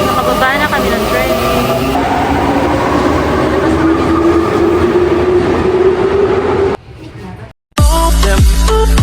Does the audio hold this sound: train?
yes